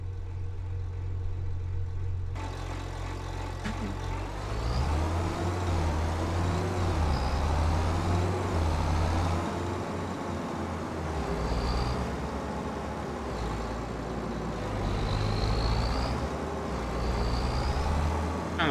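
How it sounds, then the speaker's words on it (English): A New Holland vehicle's diesel engine in Farming Simulator 25 starts up and settles into a steady idle with a deep rumble, rising and falling revs, and faint whistling tones over the top. "Sounds like a diesel."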